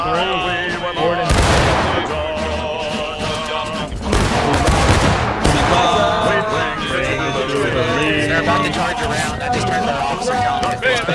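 Musket volleys and scattered rifle shots ring out in the War of Rights video game, with sharp blasts near 1.5 and 4–5 seconds over a continuous bed of battlefield noise and shouting voices.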